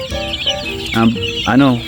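Chickens cluck and squawk close by in a quick series of short, nasal calls, with a rising crowing-like call near the end.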